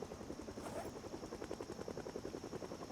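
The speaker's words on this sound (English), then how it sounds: "Those damn Kentucky rednecks flying their helicopters for the laughs." A helicopter flies overhead in Project Zomboid on a rainy day, its rotor chop pulsing steadily and fairly faint against the steady hiss of rain, with no voices.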